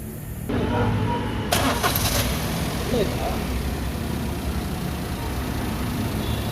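A Maruti Celerio car's engine cranks and catches, then settles into a steady idle, recorded up close during air-conditioning gas refilling.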